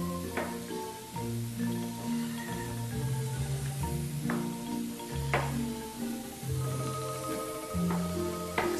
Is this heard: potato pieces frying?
yes